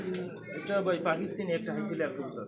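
Highflyer pigeons cooing at a pigeon seller's stall, low repeated coos mixed with overlapping conversation throughout.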